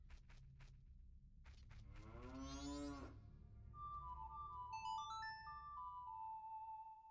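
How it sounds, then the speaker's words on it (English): Cows moo in a cow grotto in the Ocarina of Time video game, one long sliding low moo followed by bright melodic game jingle tones, over a steady low background hum. "It's a cow grotto"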